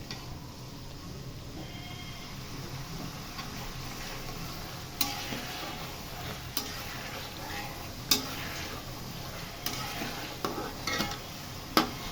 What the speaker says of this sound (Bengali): মশলাটা সুন্দর করে কষিয়ে নিব।